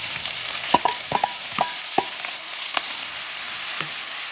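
Broccoli dropped into a hot pan where shrimp have been cooking, crackling in a steady close sizzle broken by several sharp stirring scrapes and taps against the pan.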